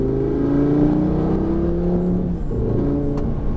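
Lamborghini Gallardo accelerating hard on the Lédenon race circuit, a loud, steady engine roar with rising harmonic tones swelling through the whole stretch, heard close from inside the car with no talk over it.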